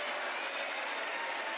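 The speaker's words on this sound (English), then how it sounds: "And Jessie Irvin gets some applause from the crowd" At an indoor national pickleball championship, a crowd applauds with dense, steady clapping that fills the brief moment evenly, with no pause or swell.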